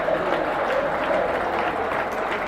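Stadium crowd at a Torres football match applauding the red-and-blue team below the central stand, a steady wash of distant clapping and crowd noise.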